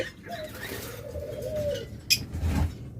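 Budgerigars and lovebirds calling at a bird sale give a soft drawn-out cooing note and scattered chirps, close by, with a brief sharp squawk near the end over a low background hum.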